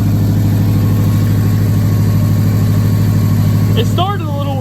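A Subaru engine idling close by, a loud steady low hum with an even pulsing rhythm throughout, and a voice briefly speaking over it near the end.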